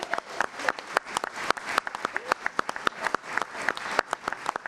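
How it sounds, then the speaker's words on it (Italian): Applause at an award ceremony for a 12-year-old climate protester, sparse, distinct hand claps from a small audience in an irregular, uneven rhythm. "Applausi."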